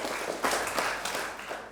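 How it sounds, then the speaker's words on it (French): Brief applause from a small group, scattered claps rising in a burst and then thinning out, fairly close, with no talk over it. "On applaudit?"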